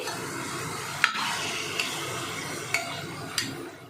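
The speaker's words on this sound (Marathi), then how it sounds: "आता याच्यामध्ये चिकन घालून घ्यायचं आहे" Raw chicken pieces stirred into a thick onion-tomato gravy with asafoetida in a pan for Bengali-style chicken curry, a steady wet sizzle broken by a few sharp spoon-on-pan clinks, close and with no talk.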